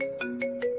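A phone ringtone repeats an electronic melodic tone with short bright bursts about every fifth of a second. It is steady and moderately loud, with no voices.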